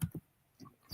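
Keyboard typing: four or five quick, soft clicks spaced irregularly across a second, close and quiet with no voices.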